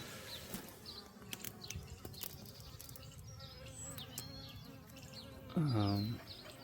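A honeybee swarm moving into a new home hums with a faint, continuous buzz of many insects, with individual bees zipping close by now and then, including one loud pass near the end.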